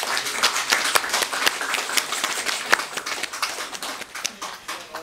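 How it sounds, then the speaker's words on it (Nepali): Audience applause at a prize and felicitation event, dense and steady clapping from a crowd held at an even level throughout with no talk over it. "जोरदार ताली दिएर धन्यवाद दिउँ"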